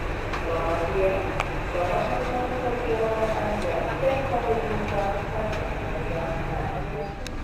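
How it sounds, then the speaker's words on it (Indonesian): The Arjuno Express train pulls out of platform 6 at Surabaya Gubeng station, a steady low rumble of rolling carriages with faint rhythmic wheel clicks, heard from on board and holding level throughout. "kereta api Arjuna Express diberangkatkan dari jalur 6 stasiun Surabaya Gubeng"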